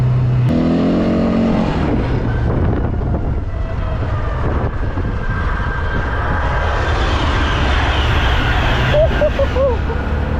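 A high-speed train passes close by, its rising rush and roar swelling with wind buffeting over about ten seconds, and people speak near the start.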